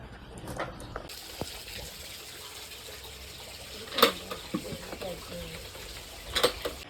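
Eggplant and plantain are washed in water for a big village meal in Jaffna, Sri Lanka. Soft splashing and dripping come with intermittent clinks and sloshes over a steady background.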